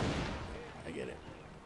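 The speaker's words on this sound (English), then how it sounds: "Explosion, explosion." Dense explosions and gunfire-like blasts in Assassin's Creed III gameplay, a loud continuous roar of booming bursts filling the short moment, with no pause.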